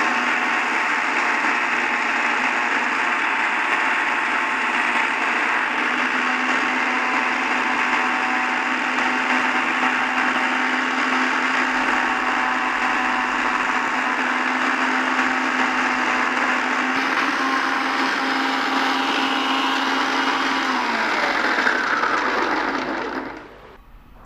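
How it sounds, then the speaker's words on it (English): A mixie food processor with a scraper attachment grates fresh-cut coconut on its first speed, giving a steady, loud motor whine with a grinding rasp that runs unbroken for about twenty seconds before winding down abruptly near the end. "I'm going to switch on the mixie in the first speed"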